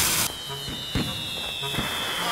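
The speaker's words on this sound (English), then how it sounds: "Wow, it's fireworks! Oh, I accidentally lit a couple of fuses." Cartoon fireworks set off after fuses are lit by a welding torch in a preschool animation, with several sharp bursts and crackles over a steady high whistle, fairly loud and close.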